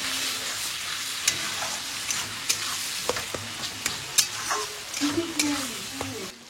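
Tomato masala with salt sizzles and fries in a pan for Punjabi chicken curry, stirred with several sharp utensil scrapes and clicks over a steady frying hiss, close up.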